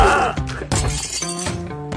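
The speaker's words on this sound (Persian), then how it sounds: "چرا شیشه ما را شکستی؟" Window glass shatters with a sharp crash followed by crunching, tinkling fragments over about two seconds, loud and close, with no talk.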